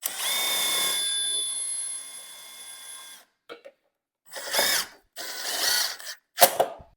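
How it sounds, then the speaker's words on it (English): A power drill drives Tek screws into a metal U-channel on the end of a post, giving a sustained whirring drill run followed by several short bursts of drilling and mechanical clicks. "Grab your provided Tech screws and install them on the end of your post here."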